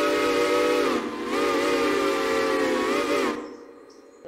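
Huber 6 chime steam train whistle from the Railroader game, a steady multi-tone chord sounding loud and close for about three seconds, dipping briefly near the start, then cutting off to a faint hiss.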